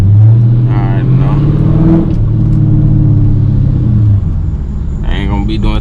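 Engine of an RT car driving at night, a steady low rumble with rising and falling revs through gear changes, loud and close throughout.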